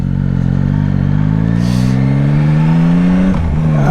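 A Yamaha Tracer 9 GT motorcycle engine revs loud and close past 6,600 rpm, its pitch climbing steadily higher before a brief dip and recovery near the end.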